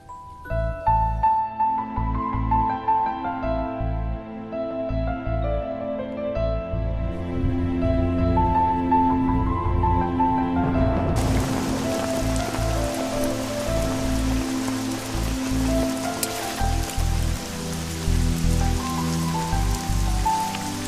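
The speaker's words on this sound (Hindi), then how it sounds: "बारिश भी थोड़ी कम हो गई है" Steady rain falls and patters on surfaces throughout, close and fairly loud, getting denser and hissier partway through. No one talks.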